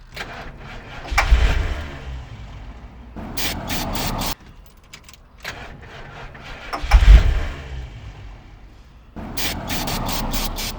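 A classic truck engine that has sat unused for years cranks in repeated starter bursts, each building to a rough surge before cutting off, with short quiet gaps between attempts.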